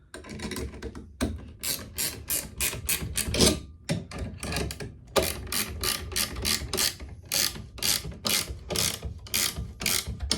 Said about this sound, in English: We'll tighten our vise down to hold it in place.